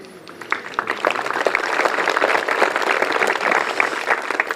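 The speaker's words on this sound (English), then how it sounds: "I appreciate the applause." An audience applauds a speaker at a morning talk on meditation and yoga, a steady, moderately loud wash of many hands clapping that builds after a quieter start.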